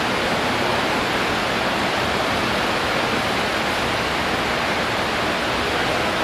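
Rushing, high-volume water surges through a ProFlex pipe flow test rig at roughly 10,000 to 14,000 gallons per minute, a dense, loud, steady roar with no breaks for the whole stretch.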